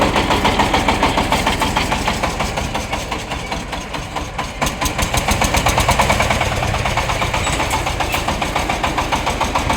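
A Shifeng 350 mini tractor's small diesel engine idles nearby with a steady rapid chugging pulse, briefly dipping then settling back into an even rhythm.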